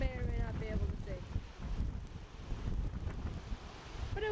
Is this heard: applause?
no